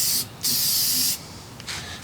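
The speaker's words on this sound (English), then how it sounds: "Get a can of this stuff. All-purpose spray adhesive." Two close hissing bursts of all-purpose spray adhesive from an aerosol can being applied around gasket edges while reassembling a Ford FE engine, the second burst longer than the first.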